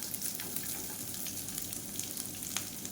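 Sliced large onions, cut lengthwise, sizzle and fry steadily in a pan with curry leaves, a close, continuous hiss with soft crackles and no talking.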